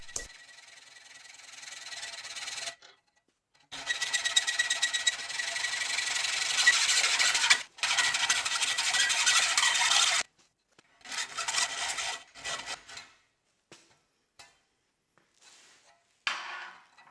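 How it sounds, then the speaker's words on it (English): A hacksaw cutting metal while making a machinist jack, long bursts of steady rasping strokes with short pauses between passes, close and fairly loud, then shorter intermittent strokes toward the end. "the only thing left to use is my trusty hacksaw, an angle grinder and a multi-tool to get the job done"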